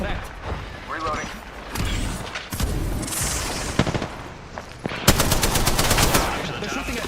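Rapid gunfire from an Apex Legends match crackles in repeated bursts, with sharp shots and mechanical clatter. Near and loud, it is heard alongside game sounds and a voice.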